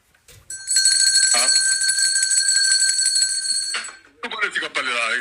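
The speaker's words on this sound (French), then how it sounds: "Cloche!" A bell rings loudly and steadily for about three seconds with a bright, sustained metallic tone, then stops; voices start up right after.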